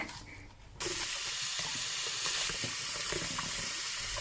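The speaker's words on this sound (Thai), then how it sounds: "เดี๋ยวเรานำไข่เค็มที่หมักเกลือครบหนึ่งคืนแล้วนะคะนำไปล้างเกลือออกนะคะ" Running tap water splashes steadily over salted eggs in a sink as the salt is rinsed off, starting abruptly and continuing as a close, constant hiss with small splashes.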